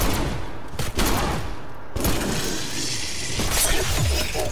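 Rapid gunfire bursts in the Cold War Zombies game on the Firebase-Z map, loud sharp shots in quick succession with an impact thud near the end, no talk.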